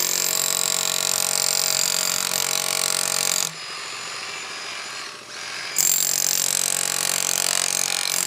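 Loud, steady mechanical hammering from a Bosch demolition hammer chiseling concrete runs continuously, pausing briefly midway with a quieter stretch before the harsh pounding resumes.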